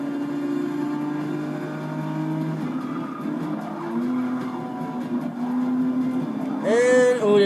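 A Porsche in Forza Motorsport 6 drones steadily as it drives, its engine pitch shifting through gear changes, then ends with a sharp rising tire squeal, with no talking.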